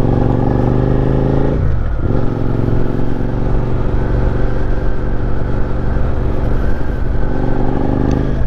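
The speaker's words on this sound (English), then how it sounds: "that V-twin sound really makes me want to cruise rather than speed" A Suzuki SV650 V-twin motorcycle engine drones loud and close while riding, with a throaty, pulsing hum, a short shift in pitch early on, then an even cruising tone with no talking.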